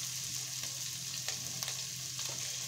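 A Kerala-style fish curry masala with red chilli powder cooks on a low flame, a faint continuous sizzle with occasional light scrapes of stirring, quiet and without voices.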